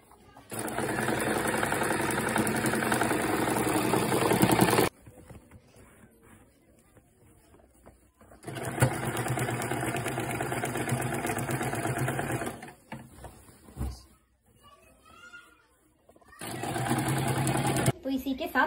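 A sewing machine stitching the waist of a lehenga during an alteration at home runs in three long, steady, loud whirring bursts, with quieter handling sounds in the pauses between them.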